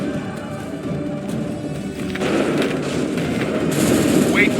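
Musket volley gunfire in the video game Assassin's Creed 3, a broad booming roar of massed shots swelling midway and sustained under battle noise, with a faint voice in the mix.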